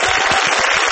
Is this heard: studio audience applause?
yes